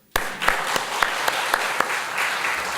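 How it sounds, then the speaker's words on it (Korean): A church congregation at a Sunday service breaks into celebratory applause that starts abruptly and continues as loud, fairly rhythmic clapping from many people, with sharp accents marking an even beat. "또 한번 우리 축하의 박수"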